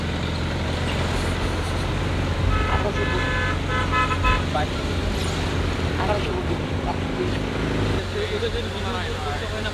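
A car grinds up the steep hill road to Sajek Valley in Bangladesh, its engine droning steadily and close while horns toot now and then, with voices talking over the road noise throughout.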